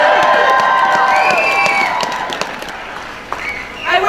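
A large crowd at the New Hampshire Sisters March cheers and claps, loud and close at first, with whistles and shouts rising over the din, then easing before a fresh burst of cheering near the end.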